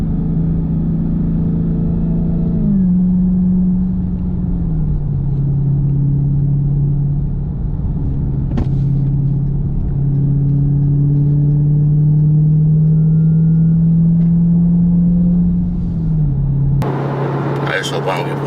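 A Dodge Charger Hellcat engine drones steadily from inside the car on a test drive, its pitch holding and shifting slightly with a few transient knocks, and ending in a louder rising burst near the close.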